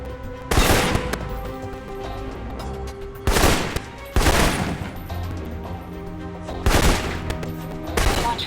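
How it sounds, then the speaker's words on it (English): Assault rifle fire in Alpha Protocol, loud bursts recurring in a rough rhythm about every few seconds over an ongoing game soundtrack. "For long-range encounters, the assault rifle's the key"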